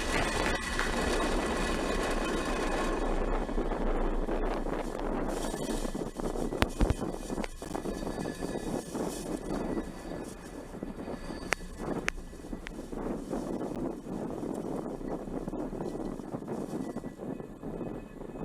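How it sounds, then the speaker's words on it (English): A SpaceX Falcon 9 rocket lifts off on a Starlink mission from Vandenberg Space Launch Complex 4 East, a steady, distant broadband roar and rumble with crackling bursts that holds for over eighteen seconds without voices. "Engines full power and liftoff of Starlink."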